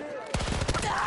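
Battlefield 2042 gunfire: a sudden rapid burst of automatic shots fires close and loud after a short quiet moment, then echoes out.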